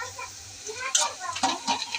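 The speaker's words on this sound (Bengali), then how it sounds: "পেঁয়াজ আমার হয়ে এসছে, আর কিছুক্ষণ লাগবে, তারপর বাকি উপকরণ দিয়ে একটু ভাজবো" Onions fry in a pan as the base for a Bengali shing fish bhuna, giving a steady soft sizzle with scattered stirring scrapes and a few brighter crackles, fairly close.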